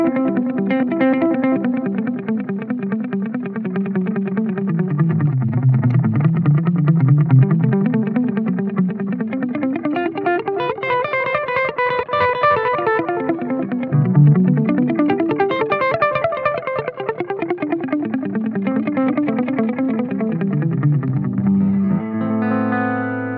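Electric guitar run through an Xvive V21 Echoman analog delay pedal in a Buckethead-style delay trick: a continuous cascade of repeating, overlapping notes with sliding, wavering pitch, loud, close and with no talk.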